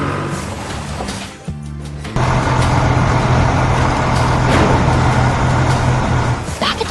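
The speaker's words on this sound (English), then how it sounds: "the vehicles are being loaded onto the transport truck" A transport truck idles loudly while vehicles are driven onto it for loading, a heavy steady engine rumble with a brief dip and clunk before the drone returns at full strength.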